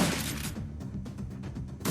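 Gun turrets fire in the Shadowrun Dragonfall video game, a steady run of dense, rapid bursts over a low rumbling game backdrop, close and fairly loud throughout.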